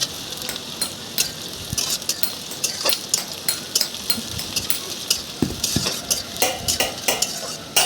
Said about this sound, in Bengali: দিয়ে পেঁয়াজ কুচি ভালো করে ভেজে একটু লাল লাল করে